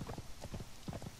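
Horse hooves in the video game Conan Exiles, a brisk, rhythmic clip-clop of galloping hoofbeats in quick repeating groups, close and fairly clear with no talk over it.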